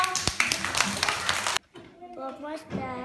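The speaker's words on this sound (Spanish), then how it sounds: "Muy bien, un aplauso." Preschool children in a class at Escuelas Pías in Zaragoza burst into close, dense clapping for about a second and a half, then it stops abruptly and young voices talk.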